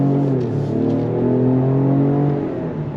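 A 2025 Ford Explorer Platinum with a twin-turbo V6 pulls hard under throttle, its engine note rising in a steady, loud drone heard from inside the cabin, with no talking over it.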